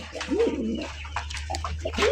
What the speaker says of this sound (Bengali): দেশি বোম্বাই কবুতর দেখেন